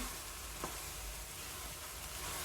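Mash dal roasts in a pan with a faint, even, continuous sizzle and hiss, with no clear stirring strokes and no one speaking.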